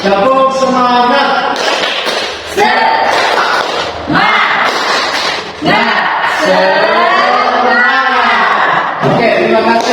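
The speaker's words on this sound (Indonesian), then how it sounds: "Kita coba tepuk semangat." Students in a classroom loudly chant a rhythmic spirit clap routine, tepuk semangat, their voices in unison between crisp clusters of hand claps, ending with shouts.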